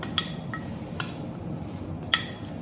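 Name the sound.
mixing red chilli powder, grated ginger and salt into curd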